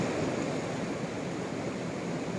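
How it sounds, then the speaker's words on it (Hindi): Fast-flowing river water rushing down a steep Himalayan valley, a steady, dense broadband roar with no breaks, close and fairly loud, with no voices. "पानी का बहाव काफ़ी तेज़ है"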